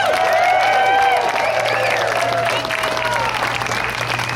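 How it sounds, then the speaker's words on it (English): A protest crowd at a No Kings rally applauds itself at the close of the event, a loud, dense wash of outdoor clapping with cheers and whoops mixed in, sustained throughout with a steady low hum beneath. "Give yourselves a round of applause."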